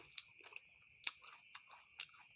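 Quiet crunchy chewing with several sharp bites spaced irregularly, close to the mic, with no talking.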